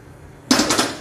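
A metal kadhai is set down on a gas stove with a single sharp clank followed by a brief rattling ring, close and loud after a quiet moment.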